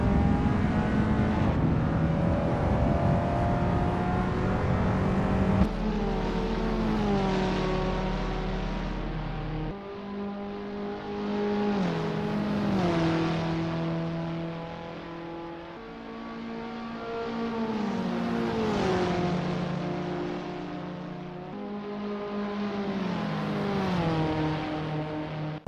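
In Assetto Corsa, Abarth 500 race cars drive a lap of the Macau Grand Prix street circuit, their engines rising and falling through repeated gear changes as they accelerate and slow, with a steady buzzing drone throughout.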